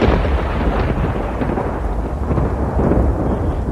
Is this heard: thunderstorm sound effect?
yes